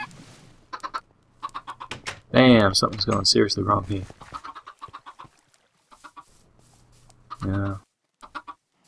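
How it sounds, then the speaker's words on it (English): Video-game chickens cluck in short bursts, with someone talking throughout over quiet background game sounds; two louder, sustained squawk-like sounds stand out. "Dumb chickens."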